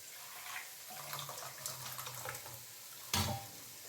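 Cooked chickpeas stirred into frying masala in a pan, a quiet, steady sizzling hiss with a single clunk of the spoon or pan near the end.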